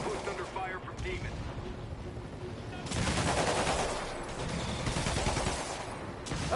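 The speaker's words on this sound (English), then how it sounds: "rooftop outpost under fire from demons" Gunfire in the Spider-Man Remastered video game during a rooftop outpost attack: rattling volleys that swell louder midway, dense and continuous, with voices talking over the shooting.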